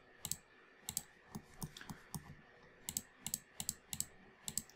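Computer keyboard keys click in quick irregular bursts while a shortcut is entered in Revit, a close, crisp tapping with brief pauses and no speech.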